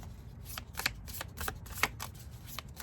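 An oracle deck is shuffled by hand, giving a quick run of soft papery riffles and flutters close by, with no voices.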